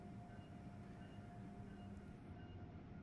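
Steady rumble and rolling hum of a train pulling into Penn Station in the Train Sim World 3 game, a constant close-up drone with faint tonal whine and no talking.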